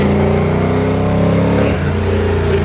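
A 1970 Buick Skylark GSX tribute muscle car engine roars loudly and steadily, pitch holding then briefly dipping and climbing again as it accelerates, close by with no talking.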